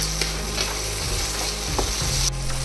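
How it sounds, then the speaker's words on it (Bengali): Ginger, garlic, tomato and green chilli fry in the oil left from frying paneer for shahi paneer, a loud continuous sizzle with a low hum and brief stirring clatter, no voices. "এর মধ্যে এই পনির ভাজা তেলের মধ্যেই আমি আদা, রসুন, টমেটো, কাঁচা লঙ্কা দিয়ে একটু ভেজে নেব"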